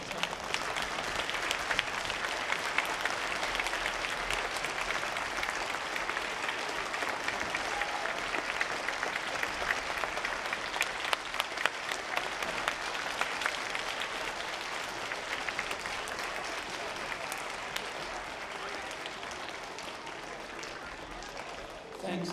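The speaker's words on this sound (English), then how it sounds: "everyone else give a loud applause to these veterans and their family who are present here today" Sustained, dense applause from an audience at an elementary school Veterans Day program, a continuous roar of many hands clapping that holds steady for over twenty seconds and eases slightly toward the end.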